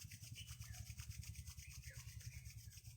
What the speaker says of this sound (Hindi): अब दोनों हथेलियों को रब करिए।